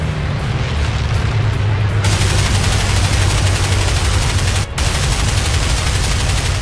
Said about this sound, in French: Le MiG-17 est criblé d'obus explosifs.